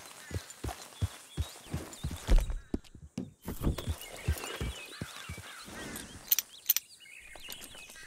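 A horse clip-clops at a walk in Red Dead Redemption 2, with a steady run of hoof falls close by and faint birds chirping around it.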